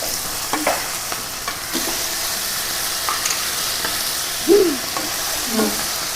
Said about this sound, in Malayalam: ഇളക്കി കൊടുത്തു